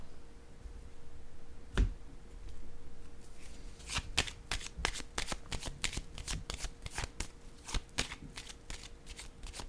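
Playing cards being shuffled and drawn, first a single sharp snap of the deck, then a fast run of crisp riffling flicks, close and clear with no voices.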